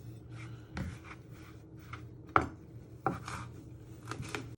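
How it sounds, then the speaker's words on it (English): Sharp kitchen knife chopping food on a board, a few distinct crisp chops spaced irregularly over a quiet kitchen background, close and moderately loud. "So you just give it one more chop so it's nice and fine."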